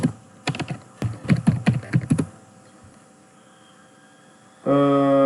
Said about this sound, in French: je tape entrée